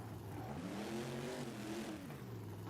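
A monster truck engine revs in the BeamNG driving game during a Monster Jam speedway event, its quiet, steady drone rising and falling in pitch as the throttle swells and eases off.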